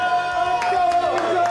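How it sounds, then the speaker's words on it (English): Crowd at a KCXW Showcase wrestling event rallies behind Angel Shay with a steady roar of cheering, some tonal whoops standing out in a brief burst. "you can hear the crowd solidly behind Angel Shay, getting riled up, getting raring"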